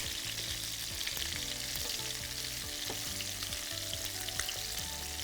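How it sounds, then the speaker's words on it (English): Chicken thighs frying in hot fat in a pan, giving a steady, close sizzle and crackle that runs unbroken throughout, with occasional brief spits and pops and no voices. "I'm kind of pushing the skin down into the fat in the pan so it can get a chance to fry on both sides"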